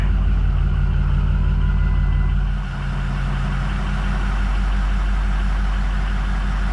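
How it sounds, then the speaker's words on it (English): A Ford 6.0 Powerstroke diesel truck engine idles right after starting, a loud, steady low rumble with a slight shift in tone partway through and no talking. "Start the car."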